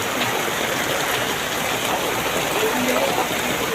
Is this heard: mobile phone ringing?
no